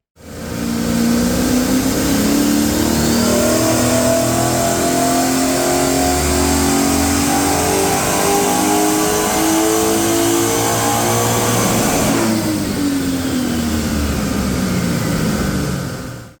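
A turbocharged Ford XG ute engine revs hard on a dyno in one long sustained pull, its pitch climbing steadily before dropping off near the end, loud and close throughout.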